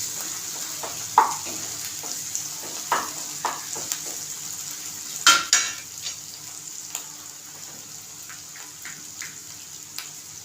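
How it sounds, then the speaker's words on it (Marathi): Ingredients for a Maharashtrian white peas curry fry in hot oil while a utensil stirs them: a steady close sizzle broken by several sharp scrapes and taps, with no one speaking. "चांगलं तेलामध्ये परतायचं"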